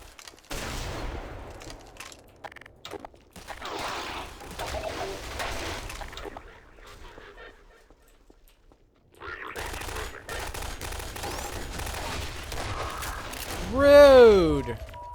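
Gunfire bursts crackle in the video game Half-Life 2 Lost Coast, scattered volleys separated by brief lulls, with a louder swell and a sweeping tone near the end.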